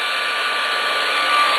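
A blow dryer runs steadily at close range while drying and styling a wig with a round brush, giving a loud, continuous airy whoosh with no talking over it.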